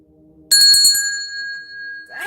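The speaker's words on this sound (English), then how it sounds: "the bell didn't want to ring. Are you going to ring this time?" A bell rings in a quick run of four or five sharp strikes, and its bright metallic tone then hangs on and slowly fades. No one speaks over it.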